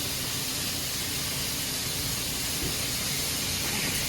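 Pounded beef strips for a Philly cheesesteak sizzle on a hot surface, a dense, steady, loud hiss with no pauses.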